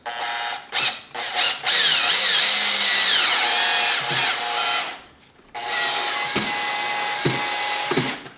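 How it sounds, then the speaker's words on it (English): A power drill set to its lowest speed revs in short bursts, then runs steadily as it bites into wood to mount blinds, its pitch sagging under load, pausing briefly before a second long run. "I put my drill on speed 1 because I don't want it to go as fast"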